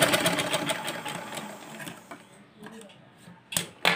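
A sewing machine stitches a simple blouse, a fast rattling run of needle strokes up close that slows and stops, followed by a few sharp clicks and handling knocks.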